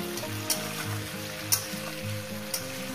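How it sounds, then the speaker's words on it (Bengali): Cauliflower and vegetables fry steadily in a pan, a soft continuous sizzle under faint background music, with a few brief clicks of stirring at regular intervals and no talking. "আরও 4-5 মিনিট এইভাবে ভাজবে, শুধু ভাজতেই থাকবে।"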